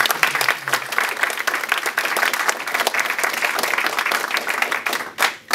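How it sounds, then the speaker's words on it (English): An audience at the inaugural meeting of a Long Island gay parent teachers association applauds, a dense sustained wash of many hands clapping close by that fades near the end. "So I think we should give a round of applause to everyone."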